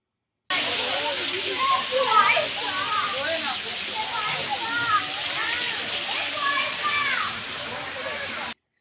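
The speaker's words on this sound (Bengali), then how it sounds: "এখানে জলের আওয়াজটা তোমাদের শুনিয়ে দিলাম" Water flows and splashes at a pond in Lahiri Baba Ashram, Bandel, a steady rushing wash with a continuous hiss from start to end, and chirping or chatter from birds or children above it.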